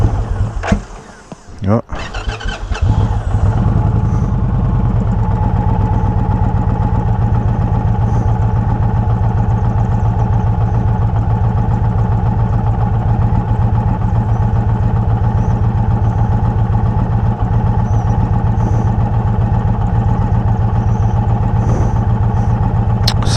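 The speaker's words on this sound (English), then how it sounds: "So let me fire it up one more time so you guys can hear it." A 2020 Indian Challenger Dark Horse motorcycle with an aluminum frame cranks and fires up, then settles into a loud, deep, steady idle that rumbles evenly for about twenty seconds, with a brief word spoken near the start.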